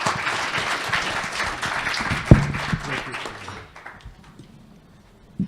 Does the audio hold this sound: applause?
yes